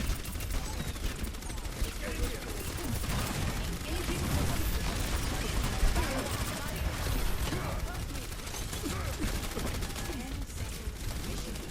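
Dense, continuous gunfire from an Overwatch match against a Bastion team, with rapid overlapping shots and explosions filling the whole stretch under constant battle noise, while someone talks over it.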